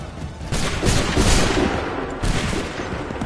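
Massed musket fire from an Assassin's Creed III battle line rolls out in loud overlapping bursts, a long ragged volley followed by a second crackling burst amid dense battlefield din.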